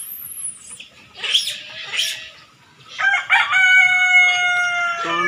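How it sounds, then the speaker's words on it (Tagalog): Rhode Island chickens roam an organic livestock farm as a rooster crows loudly nearby, mixed with clucking and other short calls. "So, ayan po yung mga Rhode Island, nagkalat lang,"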